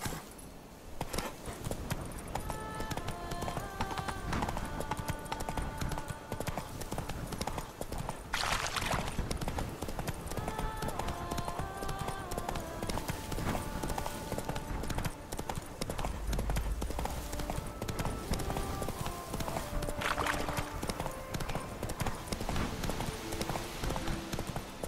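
Horse hooves clip-clopping at a steady gallop in the Witcher 3 video game, continuous and fairly loud over a background music score, with brief shouted voice calls urging the horse on.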